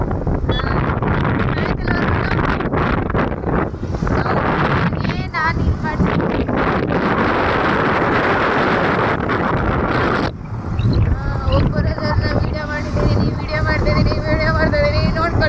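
Strong wind buffeting the microphone in loud rumbling gusts while riding a small motorbike, mixed with motor noise and intermittent talking.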